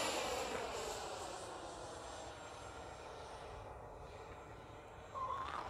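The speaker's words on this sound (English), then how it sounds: "Fifty percent throttle here, 80 millimeter EDF. Gorgeously powerful." Whooshing roar of an E-flite F-16 Falcon radio-control jet with an 80 mm electric ducted fan at half throttle, a steady airborne drone with a slight surge near the end, no talk.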